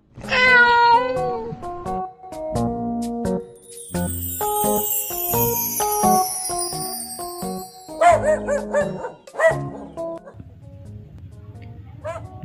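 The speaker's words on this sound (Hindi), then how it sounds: "कुत्ता" A dog barks and yips in short bursts over bright, cheerful background music, the calls coming close and fairly loud.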